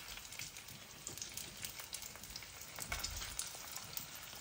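Dumplings frying in a pan to toast their bottoms, a faint, continuous crackling sizzle with fine rain-like pops throughout.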